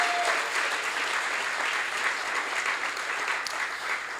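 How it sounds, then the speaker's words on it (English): An audience at an EMT graduation gala claps continuously, a dense, even wash of applause from a seated crowd that holds steady for several seconds, moderately loud, with no clear voices rising above it. "So I want to give Victor a round of applause again for his dedication"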